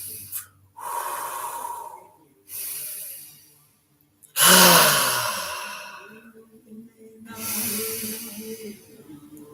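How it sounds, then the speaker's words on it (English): Breathing exercise: a person takes deep, audible breaths close to the mic, forceful inhales and long exhales with short silent pauses between, several rounds in a row. "you can switch to a circular breath."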